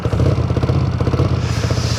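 A 1981 Honda CX400C motorcycle engine, its choke just taken off after cooling, idles unevenly and struggles to hold tick-over, a steady close-up low throb with fluttering pulses throughout.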